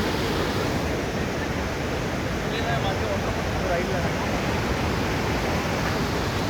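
A waterfall on the Goechala trek roars loud and close, a dense, unbroken rush of falling water that fills the whole stretch and drowns out everything else.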